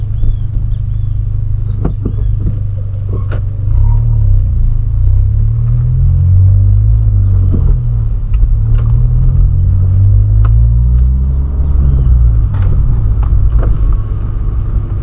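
Volkswagen Polo with a loud, aggressive exhaust note on a street, a deep, heavy engine rumble that surges and falls steadily, close and loud throughout.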